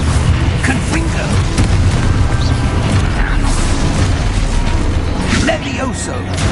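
Confringo blasting spell exploding in Hogwarts Legacy, a loud continuous stream of booming blasts and crackling bursts that stays dense and forceful throughout, with a slight drop near the end.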